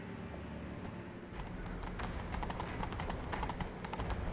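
Rapid rhythmic hoofbeats of a galloping horse in the video game The Witcher 3: Wild Hunt, starting quietly then getting louder and steady, over a low ambient hum.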